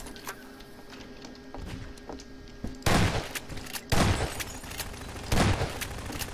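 Gunshots in the video game Garry's Mod Prop Hunt, three distinct loud bursts spaced about a second or more apart over a faint background hum.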